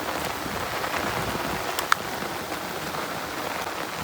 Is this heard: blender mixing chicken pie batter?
no